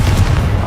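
A short, loud, bass-heavy blast from the Confringo spell in Hogwarts Legacy, a single deep thump that fills the moment and cuts off quickly.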